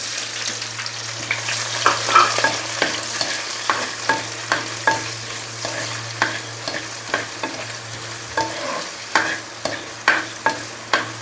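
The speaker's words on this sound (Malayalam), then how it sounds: "എണ്ണ ചൂടായി, അതിലേക്ക് നമുക്ക് സവോള കൊടുക്കാം." Sliced onion frying in hot coconut oil in a pan, giving a steady close sizzle broken by regular scraping stirs, with no talk.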